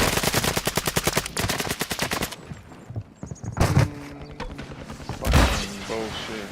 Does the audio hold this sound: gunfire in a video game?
yes